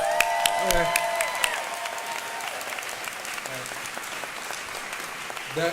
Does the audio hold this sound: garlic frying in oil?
no